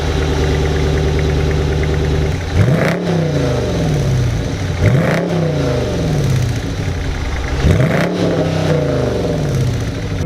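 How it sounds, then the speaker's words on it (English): Dodge Charger R/T exhaust under hard acceleration, loud and close, with a rising engine note that climbs, drops sharply at each upshift and climbs again three times in a row. "just getting on the power here, and just moves, and just hearing that exhaust"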